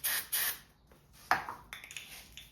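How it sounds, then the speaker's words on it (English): Starter fluid sprayed from an aerosol can into the air filter of a 50cc two-stroke dirt bike, heard as two short, close hissing bursts, followed by a brief metallic ping and light rubbing noises. "You'll just spray the starter fluid right into the air filter."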